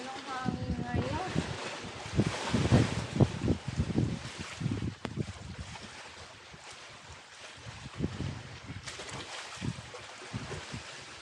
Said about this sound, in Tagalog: Ito lang hangin ngayon.